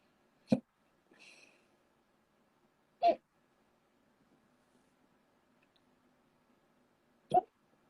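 Three sharp, close hiccups spaced a few seconds apart, each a short abrupt gulp, with a faint breathy sound after the first and near silence in between.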